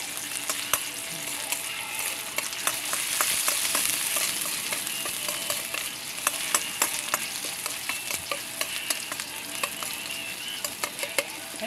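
Onion and ginger sauté in a hot pan for Filipino chicken tinola, giving a steady, close sizzle. Frequent sharp spatula scrapes and clicks punctuate it throughout, with no talking.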